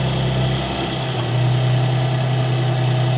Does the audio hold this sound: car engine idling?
yes